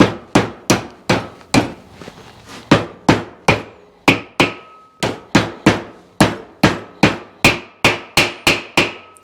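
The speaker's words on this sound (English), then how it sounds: "Guess I could have cleaned the hammer first." Steady hammer taps drive a bearing seal into a brake hub on a 1955 Chevy Nomad, about twenty sharp, ringing metallic strikes in a quick, slightly uneven rhythm, close and loud.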